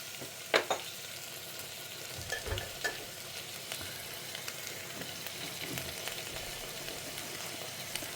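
Onions frying with ginger garlic paste in a pan, a steady sizzle running throughout with a few louder stirring scrapes and clinks near the start, no talking.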